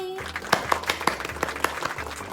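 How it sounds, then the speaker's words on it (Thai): Several children clap their hands in a short burst of applause during a sensory-stimulation treasure-hunt lesson, with sharp irregular claps spread over about two seconds at moderate loudness. "ปรบมือให้ตัวเองหน่อย"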